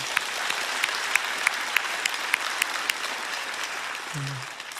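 A church congregation applauds during a Sunday service, a steady wash of clapping from a large crowd, fading near the end as a voice begins.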